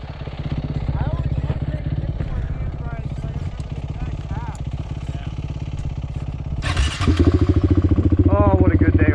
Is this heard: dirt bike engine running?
yes